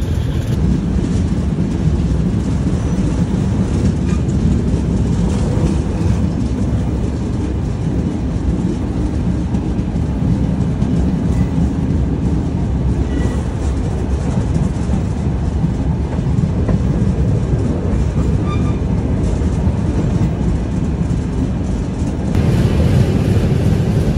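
The Ruposhi Bangla Express rumbles past loud and close, a continuous roar of wheels and clattering carriages that holds steady for the whole stretch with no voices.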